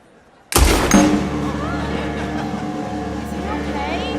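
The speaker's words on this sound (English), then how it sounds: "Arthur stood up and shoot at his head" A single loud gunshot from Arthur's gun in Red Dead Redemption 2, fired at a stage performer's head, bursting out sharply after a quiet moment and ringing into a sustained, reverberant musical and crowd-like wash.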